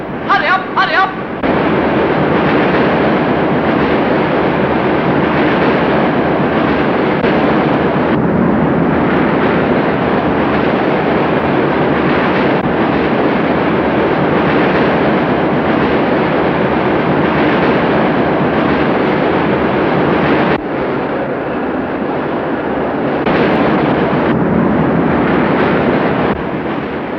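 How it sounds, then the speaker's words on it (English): A moving train in a 1935 film has a loud, continuous rumble and rush that runs steadily throughout with a few abrupt shifts, while voices speak over it. "Isn't there anything you can do to stop this train?"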